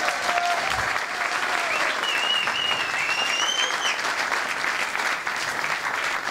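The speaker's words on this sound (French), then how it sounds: "Alors on va pas arrêter d'applaudir" An audience applauds at the opening of the Hacking Health Strasbourg 2014 event, with dense, even clapping that fills the hall for several seconds and a few faint high whistles above it.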